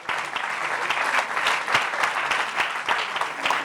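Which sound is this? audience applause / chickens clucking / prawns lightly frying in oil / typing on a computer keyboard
audience applause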